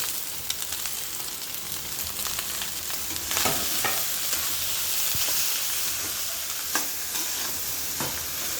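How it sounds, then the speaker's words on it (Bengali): Leftover rice and potatoes stir-fried in a pan, a loud steady sizzle with repeated spatula scrapes and knocks against the metal, close up and without talk. "এবার এটা ভালো করে আলুর সাথে মিক্সড করে ভেজে নিতে হবে"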